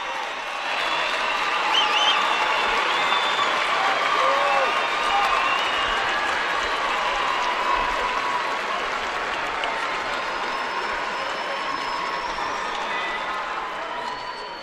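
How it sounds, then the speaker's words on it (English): A high school wrestling crowd gives a standing ovation to a four-time Colorado state champion, with dense, sustained applause and scattered cheers that fill the arena and fade slightly toward the end. "you see the standing ovation from the crowd saluting the 4-time state champion"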